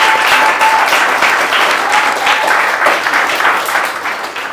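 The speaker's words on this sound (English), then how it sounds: "So a massive round of applause to Chiara, our last speaker." A loud round of applause greets a speaker taking the stage at a talk event, dense crowd clapping that holds strong and then begins to taper near the end.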